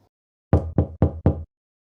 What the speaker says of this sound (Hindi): दरवाज़ा खटखटाना